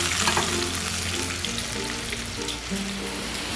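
Spice paste added to potatoes frying in a pan, with a dense, continuous crackling sizzle at close range throughout and no talking.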